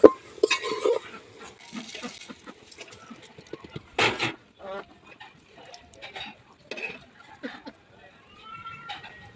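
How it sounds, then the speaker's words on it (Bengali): Rice and lentils go into a pot of sautéed winter vegetables for khichuri, with scattered close clinks of a metal spoon and utensils, soft rustling pours and brief voices in between. "এবার চাল ডাল দিয়ে দিব"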